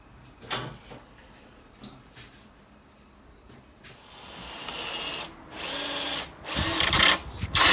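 A power drill whirs in several bursts, drilling holes for lights in a garage plinth, starting with short clicks and taps and building to longer, louder runs near the end.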